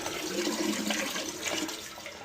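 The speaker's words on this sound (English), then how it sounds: "rinse down the toilet here. Give it a good rinse." Water rinses down a Toto toilet bowl, a steady broadband rush of flushing and splashing that runs close and unbroken throughout.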